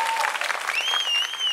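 A television comedy show audience gives a loud, sustained round of applause, with a thin whistling tone rising over the clapping partway through.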